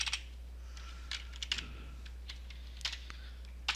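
Scattered clicks of keys being typed on a computer keyboard while entering C# code, coming in short irregular bursts with pauses between them over a steady low electrical hum.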